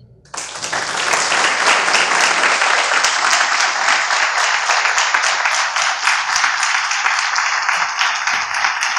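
An audience at the closing session of an agribusiness science symposium breaks into loud, dense applause that starts abruptly and continues steadily and close for the rest of the clip.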